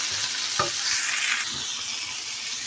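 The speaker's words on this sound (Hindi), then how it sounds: "इसको मिक्स कर लेती हूँ और अच्छे तरीके से भुनाई कर लेती हूँ" Chicken with vegetables and spices stir-fries in a pan, a steady close sizzle with one sharp spoon scrape or knock early on and soft stirring swishes after, no one speaking.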